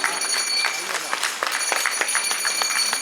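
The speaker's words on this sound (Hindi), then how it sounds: "सभी जोरदार ताली बजाएं" An audience claps steadily at a 90th birthday celebration, with many hands patting in a dense, continuous ripple while a voice speaks over it.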